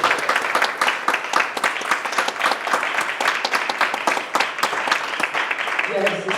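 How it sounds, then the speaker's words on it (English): Audience applause at a student leadership academy ceremony at Hostos Community College, a steady dense clapping from a crowd that runs through the whole stretch at even loudness, with a voice briefly heard near the end. "Let's give a round of applause."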